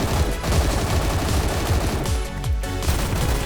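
Rapid continuous rifle fire in the video game Phantom Forces, a dense stream of loud shots with almost no gaps.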